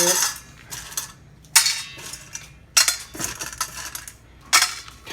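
Dry pet food scooped from a container into bowls for two dogs, one of them an overweight dog, giving four sharp bursts of rattling kibble and clinking against the bowls, close and fairly loud with quieter gaps between.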